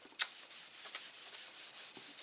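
A static brush is swept over cardstock ahead of black heat embossing on a garden flower card, giving a faint, steady brushing rasp in repeated short strokes with one sharper scrape near the start.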